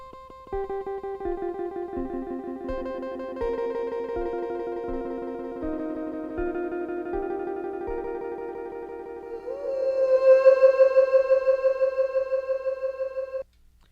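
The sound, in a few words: delay pedal trailing looped sounds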